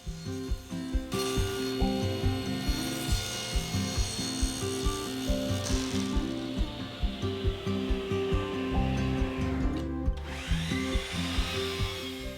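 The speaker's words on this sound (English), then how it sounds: "For the shelves, I'm using 1/2 inch CDX plywood, and I'll rough cut them at 14 1/2." A saw rough-cuts half-inch CDX plywood shelves for a shoe rack, giving a steady rhythmic run of wood-cutting strokes at close range with no talk.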